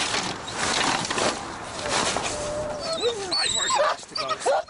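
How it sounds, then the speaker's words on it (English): Samoyed dogs bark and whimper, with yips and whines rising in pitch near the end, set against a busy background with some voices talking. "4 generations of Samoyeds raised by Paul Rintoul and his wife, Debbie."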